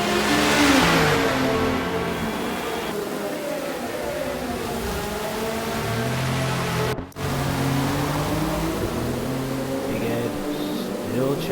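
Acura and Lamborghini race cars in a Forza video game race roar and whine through gear changes, their engines rising and falling in pitch, loud and close, with a sharp dropout midway.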